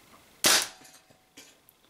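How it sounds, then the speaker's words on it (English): A Spyder MR6 paintball marker powered by CO2 fires a Z-RAM slug in a single sharp, loud shot, followed by a fainter knock a moment later. "let me take whatever shots that I can get out of it."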